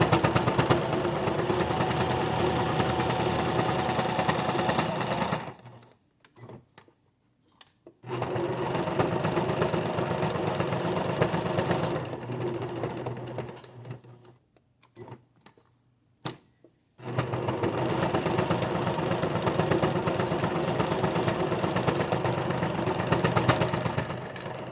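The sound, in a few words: sewing machine top stitching a bag liner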